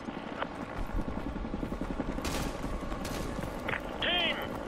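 Attack helicopter rotor drone mixed with bursts of gunfire in the video game Call of Duty: Modern Warfare 2 Remastered, a sustained battle din with sharp shots and a radio-like chirp near the end.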